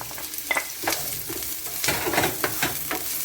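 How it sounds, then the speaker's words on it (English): Seasoning sautés in a little oil in a saucepan for a Jamaican-style stuffed fish with callaloo, crackling and sizzling up close while a utensil stirs and scrapes in irregular strokes. "I'm gonna add in my seasoning and I'm gonna saute"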